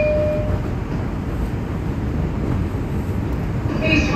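An R142 express on the New York City subway runs with a loud, steady rumble and roar of wheels on rails, and a couple of brief tonal chimes are heard.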